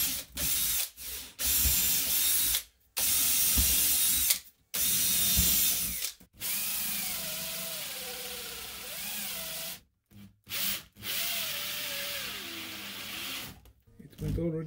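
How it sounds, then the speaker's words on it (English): A hand drill with a new, sharp bit bores holes in wood for a wine rack: long steady grinding whirs in several bursts, separated by abrupt silent gaps as the drill stops and restarts, with rising and falling pitch as the bit bites. "I think I anyway have to use my hand drill."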